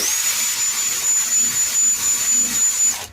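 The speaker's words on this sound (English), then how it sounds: "I've got a wire brush head on a drill" A loud, high-pitched drill fitted with a wire brush head whines steadily for about three seconds with a harsh abrasive hiss, grinding away rust, then winds down abruptly at the end.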